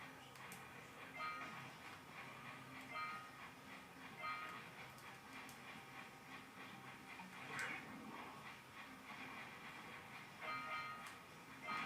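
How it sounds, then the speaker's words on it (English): Jak and Daxter video game sound effect resembling a train: a faint, steady mechanical rumble with rhythmic clanking and repeated whistle-like hisses pulsing every couple of seconds. "Sound like a train."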